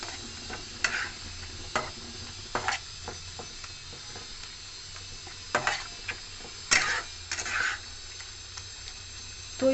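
Gima shak leaves and boiled potatoes are stirred in a pan, giving a quiet, low sizzle with intermittent scraping strokes and clinks of the utensil, close but soft, with no talk.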